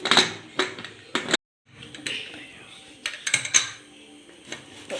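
A lid lifted off a pot of biryani, with sharp metallic clanks and clatter close by, a short gap, then more knocks of metal on metal.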